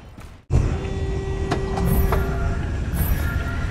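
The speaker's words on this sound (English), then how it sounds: "Hear that sound? That's the sound of ultimate repair." In the War Robots video game, the Ultimate Mender's repair ability gives a loud, continuous mechanical hiss with a faint steady hum underneath and a few brief clanks.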